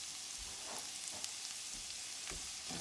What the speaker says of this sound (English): And I'm gonna put in my zucchinis. Don't want to overcook these, just some quick sauteing we're doing here.